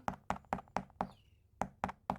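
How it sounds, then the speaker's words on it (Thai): Sharp knocks on a plant pot hardened where it was patched, eight taps in a quick, fairly even rhythm with a short pause in the middle, close and clear. "นี่เสียงกระถาง"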